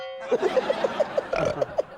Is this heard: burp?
yes